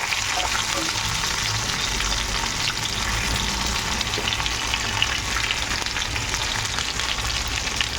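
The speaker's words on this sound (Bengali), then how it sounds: "কড়া করে আস্তে আস্তে করে ভাজলাম বেশি আঁচ দিয়ে ভাজলে না মাছের মাথাগুলো ভালো ভাজা হবে না" Fish heads fry slowly in oil over low heat, a dense, steady sizzle that stays close and even throughout with no pauses or voices.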